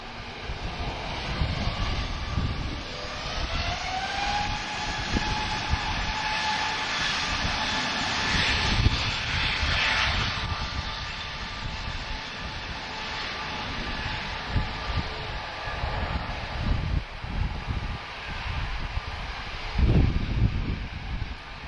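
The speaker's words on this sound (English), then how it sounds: "Still more things taxiing towards the runway." Jet airliners taxiing toward the runway at Lisbon Airport: a continuous, fairly distant engine roar with a rising turbine whine, swelling and fading over about twenty seconds.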